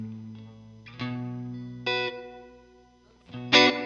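A few guitar notes and chords played through a Fender '65-type spring reverb pedal, with shorter, tighter decays that sound slightly punchy.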